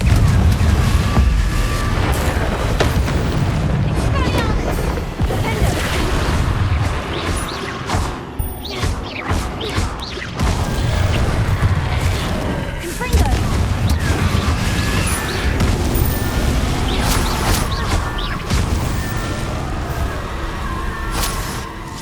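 Booming fire-spell blasts from the Confringo spell in Hogwarts Legacy, a series of loud crashing explosions with rumbling impacts across the stretch, mixed with game sounds and occasional spoken lines.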